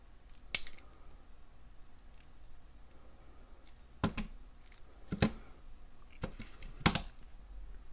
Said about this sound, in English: Snip off the excess, tuck it in